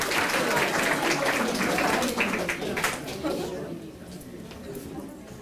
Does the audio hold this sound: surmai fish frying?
no